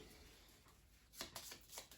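A deck of board game cards is shuffled close by, a quiet rustle followed by a few quick riffling bursts near the end.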